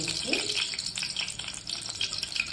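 Dried red chillies sizzle and crackle steadily in hot oil for mango pulihora tempering, a close, continuous frying hiss with small pops throughout and no talking.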